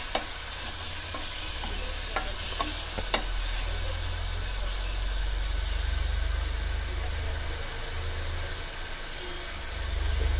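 Paneer shallow frying in a pan on a medium flame, a steady soft sizzle with a low background hum and a few light clicks of a spatula, close by, with no talking.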